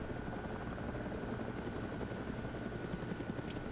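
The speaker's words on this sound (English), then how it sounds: "because of the helicopter" Helicopter in the video game DayZ, a steady droning rotor thrum with a faint rhythmic chop that holds at an even level throughout, alone with no talk.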